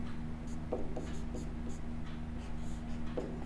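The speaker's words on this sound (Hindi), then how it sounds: "यहाँ लिख देते हैं" Pen writing on paper while working a math problem, faint close scratchy strokes and taps in short irregular bursts over a low steady hum.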